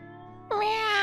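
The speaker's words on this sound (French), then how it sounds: "Le chat miaula tristement." A single plaintive cat meow, rising and sustained for about half a second after a brief quiet lead-in, close and clear with no talking.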